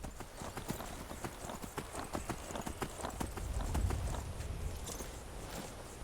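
Horse hooves clip-clop at a steady walking rhythm as a rider travels in a video game, the evenly spaced clops sitting over a low ambient background.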